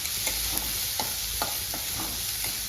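Onions cook in a pan with a steady sizzle and frying hiss, and a spatula scrapes and stirs in a regular rhythm, close and alone.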